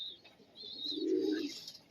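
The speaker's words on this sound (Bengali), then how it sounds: "তো দেখে নাও পায়রাটা" A male Madras pigeon gives a soft, low coo that swells in the middle of a brief, quiet moment, with a faint higher chirp nearby and no talk.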